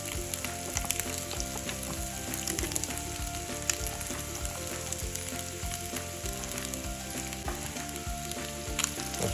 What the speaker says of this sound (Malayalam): മഷ്റൂമിൽ ആഡ് ചെയ്തിട്ട് ജസ്റ്റ് ഒന്ന് ഫ്രൈ ചെയ്തെടുക്കാം